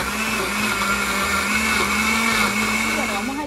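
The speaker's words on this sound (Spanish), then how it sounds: "Lo vamos a licuar para echarle a nuestro tapadito" A blender runs continuously and loudly, blending red onion and garlic for a tapao seasoning with a steady high motor whine and churning, close by.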